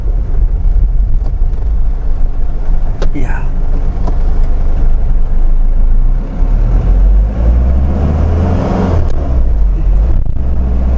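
Loud engine rumble of a Kia Pregio diesel minibus accelerating hard from inside the cabin, a low steady drone with a brief spoken word over it.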